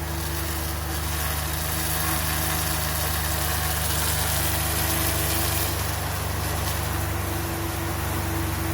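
A 2012 Toyota Vios engine runs at a steady idle, a constant close mechanical drone with even vibration and a broad hiss, with no talking.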